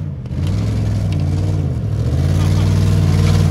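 A Ford F150 truck revs hard in a tire burnout, a loud steady engine roar rising and holding near the microphone with some rattling, running continuously for a few seconds.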